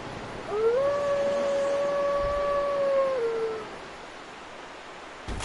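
A wolf in the video game Dark Souls Remastered, in Darkroot Garden, gives one long, clear, sustained howl that holds steady, then dips and fades, followed by a short sharp click.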